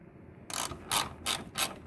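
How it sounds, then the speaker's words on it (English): A ratchet wrench turns a 10 mm headlight screw on a Cadillac SRX, giving a quick run of close, crisp clicking bursts in an even back-and-forth rhythm, with no talking. "That's how you wrench."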